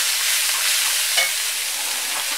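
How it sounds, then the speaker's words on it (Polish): Mackerel pieces and onions sizzle steadily in a pan, a bright continuous close frying hiss with a faint stir or two, no voices. "Dorzuciliśmy teraz tą makrelę do tej cebulki, troszeczkę mieszamy"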